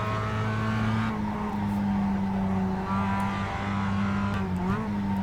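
A Mazda MX5 race car laps Silverstone in a 2011 race. Its engine gives a steady, close, loud drone with shifting pitch throughout, and brief tyre or gear sounds are heard near the end.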